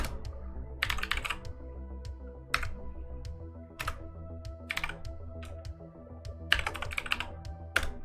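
Typing on a computer keyboard during a livestream: scattered clusters of quick key clacks with pauses between bursts, close and fairly quiet over a low steady hum, with no talk.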